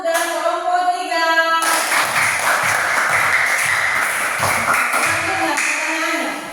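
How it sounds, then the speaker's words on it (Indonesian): Classroom of students applauding two groups, groups 1 and 3, a dense steady burst of clapping that starts after a short voice and runs fairly loud throughout, with talk mixed in. "Tepuk tangan dulu buat kelompok 1 dan kelompok 3."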